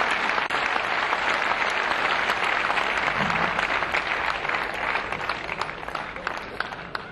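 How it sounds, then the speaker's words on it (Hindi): Loud, sustained applause from a mushaira audience at an Urdu poetry gathering, a dense, steady wash of clapping that carries on without a break for about seven seconds, easing slightly toward the end. "आइए अंतस के संपूर्ण आदर के साथ पूरा सदन एक बार हाथ उठाकर जोरदार तालियों के साथ मुनव्वर आना साहब से दरख्वास्त करे"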